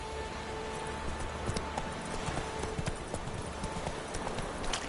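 Hooves of Roach, the horse in The Witcher 3, galloping in a quick, steady clip-clop rhythm of sharp, close hoofbeats over a constant wash of ambient game noise.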